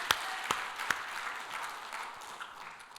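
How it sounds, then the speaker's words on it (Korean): A church congregation bursts into applause after a sermon, starting with a few sharp claps and settling into a moderate, steady patter of clapping from a sizeable room. "하나님께 영광의 박수 올려드립니다."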